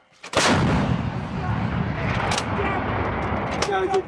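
U.S. Marines fire a live round from an M777 towed 155mm howitzer, giving one loud, close blast with a long rumbling decay, followed by faint shouts and crew movement.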